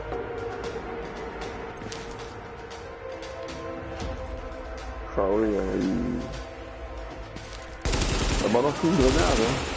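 Gunfire in The Division, bursts of automatic and single shots crackling loudly in the second half, with French-speaking players talking over the shooting.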